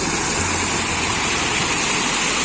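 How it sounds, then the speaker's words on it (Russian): Khashchevatyi waterfall, a low cascade in the Skole Beskids mountains, pouring into a pool; a steady, loud broadband rush of falling water fills the whole moment without pause and with no voices. "И вот мы дошли до водопада Хащеватый."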